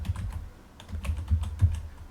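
Quick bursts of keystrokes on a computer keyboard, close and clear, with uneven clicks tapping out a short word over about two seconds.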